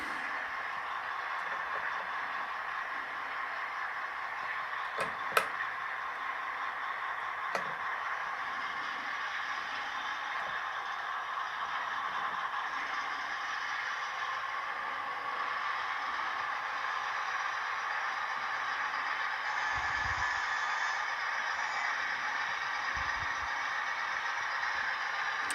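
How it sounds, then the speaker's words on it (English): A model railroad locomotive runs with a steady, mid-level mechanical hum and whine over layered ambient sound effects, with a couple of brief clicks and soft low thumps near the end. "Let's go ahead and get the locomotive moving."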